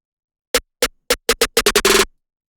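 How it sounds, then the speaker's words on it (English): A trap snare roll speeds up from spaced hits into a rapid accelerating burst that ends in a dense flurry, crisp and dry with nothing else playing. "The final thing for the percussion is this snare roll I added."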